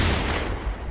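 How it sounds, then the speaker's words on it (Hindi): A gunshot sound effect gives a loud, blasting burst of noise with a rough low rumble that decays across the short moment, heard alone without speech. "पीछे से एक गोली चलने की आवाज सुनाई देती है"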